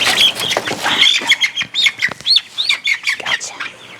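Baby chicks peep in quick, high bursts while being carried from a brooder to a big coop, close and lively with little pause between calls.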